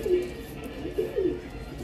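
A pigeon coos nearby, with a few short, low, throaty coos spaced over a couple of seconds against a quiet background.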